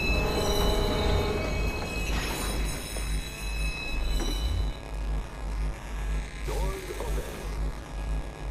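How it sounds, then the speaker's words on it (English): A train arrives at a station in the Watch Dogs video game, a continuous heavy rolling rumble and rattle with occasional metallic squeals that runs steadily throughout. "Westbound train arriving shortly."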